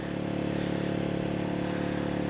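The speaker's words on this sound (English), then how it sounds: "Do you hear the engine? It sounds like it's idling pretty loud." A Honda VTR250 motorcycle engine idles loudly and steadily, a continuous close rumble with an even low throb and no revving.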